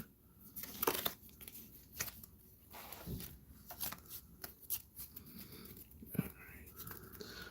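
A deck of playing cards is shuffled during a tabletop card game, quiet riffling bursts and snaps repeating irregularly with soft handling rustles between them.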